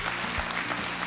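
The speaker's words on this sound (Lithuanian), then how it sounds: "Aplodismentai Albinui" A studio audience at a Lithuanian televised lottery show breaks into steady, dense applause for a guest, loud and continuous across the short moment.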